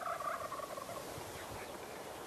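Wild turkeys gobbling from a roost about 200 yards off, a faint distant gobble early on over steady hiss and wind noise, with no talking.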